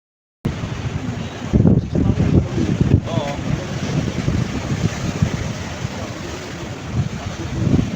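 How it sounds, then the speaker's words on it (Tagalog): Sea waves washing and surging around a boat crossing open water on a Taiwan trip, a steady broadband rush with wind buffeting the microphone, near and fairly loud throughout. "malakas din ang alon"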